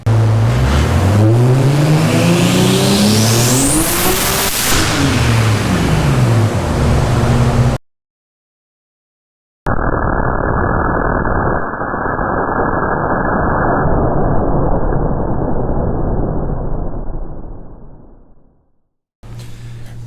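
A turbocharged BMW on a dyno revs hard, its engine note climbing steeply and loudly, then cuts out briefly before a steady, muffled roar resumes and winds down near the end.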